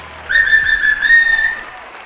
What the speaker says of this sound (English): Applaud, huge applause, bigger applause than when I went in.